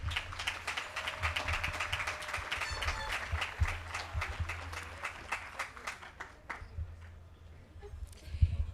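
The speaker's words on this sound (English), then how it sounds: "Graduates, please give your parents and guardians a round of applause." An audience at a high school graduation ceremony applauds, dense clapping from many hands that is strong at first, then thins out and fades toward the end.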